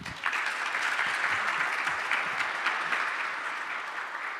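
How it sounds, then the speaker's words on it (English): Sustained applause from an audience at a venture capital summit pitch competition in London, a dense, steady clatter of many hands clapping throughout, fairly distant in the room. "let's do a final round of applause"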